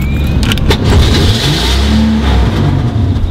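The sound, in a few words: car with rebuilt motor running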